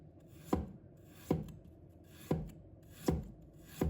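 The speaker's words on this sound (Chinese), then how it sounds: "1块生姜，把它切成片。" A knife chops through a piece of fresh ginger on a cutting board. Five sharp, evenly spaced thuds land about once a second, close and clear, and no one speaks.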